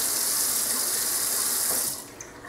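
Water runs steadily from a tap in a bright hissing stream, then shuts off near the end, leaving a faint drip.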